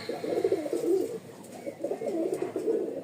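Lal Sundori pigeons coo softly in two repeated, throaty phrases, close by, with no talk over them.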